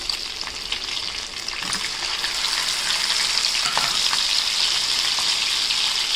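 Shrimp frying in a pan, giving a continuous close sizzle that swells slightly louder as it goes, with faint stirring scrapes underneath.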